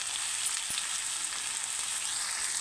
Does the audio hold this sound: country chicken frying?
yes